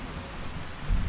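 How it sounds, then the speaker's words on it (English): Heavy rain pours as a steady, dense hiss with low rumbling underneath, swelling slightly louder at the end of the short stretch. "It's raining like crazy out here"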